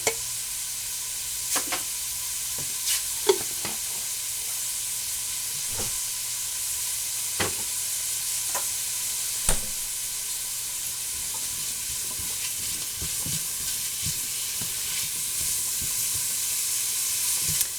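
A garlic clove fries in a pan while a corn chowder is being made, giving a steady soft sizzle and hiss with a few scattered sharper ticks and stirring knocks. Nobody speaks.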